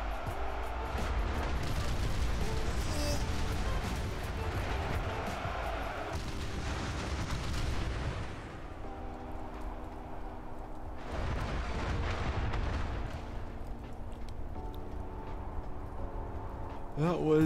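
Dense, sustained battle din from German troops firing automatic weapons in Ultimate Epic Battle Simulator 2, with heavy booming and rattling fire that surges, drops briefly and resumes, and people talking over it.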